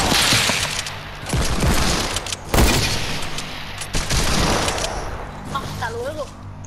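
Gunfire in a shooter video game during a no-scope challenge match on a dome map, with dense bursts of shots and a sharp blast midway while voices talk over the action.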